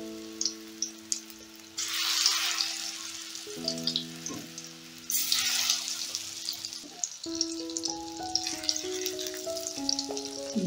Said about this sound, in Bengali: এই সয়াবিনগুলোকে সব ভেজে নেব।